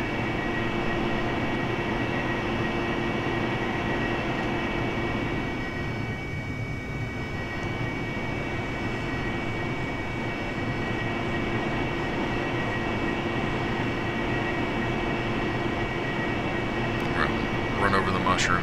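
An AV-8B Harrier jet taxis in the DCS flight simulator, its engine giving a steady, loud whine and rumble that holds throughout, with a brief shift in the middle.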